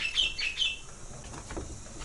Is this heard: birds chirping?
yes